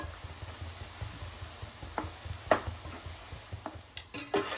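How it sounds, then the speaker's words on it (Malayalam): Groundnut pakoda stirred in a frying pan: scattered soft scrapes and clinks of a spoon against the pan over a low steady hum, with a few sharper metallic knocks near the end, fairly quiet and without voices. "കട്ട പിടിച്ചിട്ടുണ്ടെങ്കിൽ ഇതുകൊണ്ട് ഇങ്ങനെ ഇളക്കിയിടാം."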